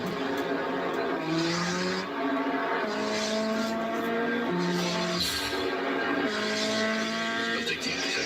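A Turbo Z sports car races with revving engine tones climbing and shifting, with tire squeal and skidding, loud and continuous throughout.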